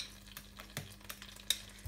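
Butter melts in a saucepan on the stove, a faint, soft sizzle with occasional light clicks and scrapes, quiet and without talk.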